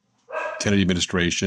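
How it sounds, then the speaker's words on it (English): Barks from a household dog break in close and loud, a quick run of sharp woofs overlapping someone speaking indoors. "that's my dog barking."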